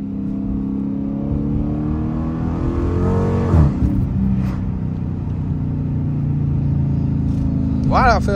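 Dodge Challenger R/T engine pulling hard through city streets, a steady low growl that climbs in pitch, drops sharply at a gear shift, and builds again, heard up close from inside the car.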